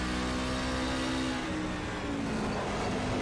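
A race truck engine in a Bristol Motor Speedway racing video game drones loudly and then winds down as the revs drop, with the tone sliding lower under a continuous roar.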